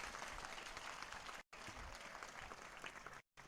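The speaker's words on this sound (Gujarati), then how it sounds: "ફરી એકવાર જોરદાર તાળીઓથી વધાવીશું આપણે." Audience applause at a motivational talk in a school hall, steady broadband clapping filling the whole clip with two brief dropouts, no voices over it.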